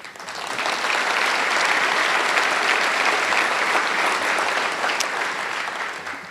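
Loud, sustained applause from a large audience at a business association's annual meeting, rising quickly and holding steady for several seconds before tapering slightly at the end, with no talk over it.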